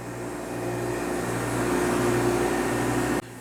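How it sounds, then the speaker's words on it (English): A Cube freeze dryer starts up and runs with a steady mechanical hum and drone, holding an even loudness before cutting off abruptly near the end. "so the freeze dryer is going"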